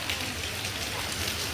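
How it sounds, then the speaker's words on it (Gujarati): Rain falling outdoors near a lake and garden on the way to a hill shrine, a dense, even hiss of drops spattering on surfaces, steady and fairly close with no break and no voices. "હવે અહીંયા આવી ગયો વરસાદ."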